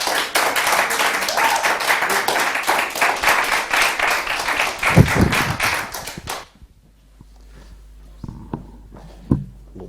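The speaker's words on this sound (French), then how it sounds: "Sous vos applaudissements." An awards-ceremony audience claps in dense, loud applause for about six seconds. It stops abruptly, leaving a quiet hall with a few faint thumps and footsteps.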